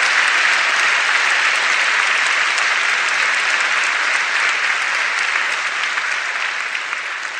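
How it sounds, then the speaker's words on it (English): A lecture audience claps in sustained, dense applause that stays loud and even throughout before tapering slightly at the end. "Give her a round of applause for sticking up with this guy."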